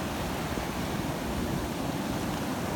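Extreme ocean waves crash on jagged, rough rocks in a continuous loud roar of surf and wind-buffeted spray, steady throughout with no voices.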